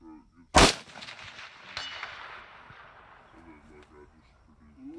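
A short-barreled rifle fires at an outdoor shooting range: one sharp, loud close shot with a long ringing tail, then a fainter second report, with people talking before and after.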